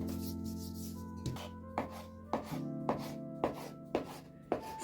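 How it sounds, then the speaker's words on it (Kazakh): Knife chopping soda-raised dough finely for Kazakh shi bauyrsak on a board, soft regular thuds about every half second over a steady background hum. "Осылай майдалап кесіп аламыз."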